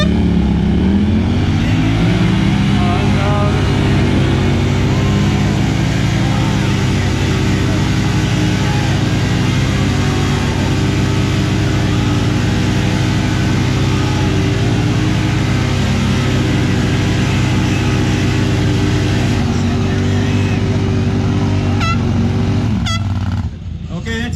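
Two loaded side-by-sides, a Yamaha RMAX and a Honda Talon, strain together in an outdoor tug-of-war, their engines held at a loud, sustained high rev for a long stretch with crowd voices mixed in.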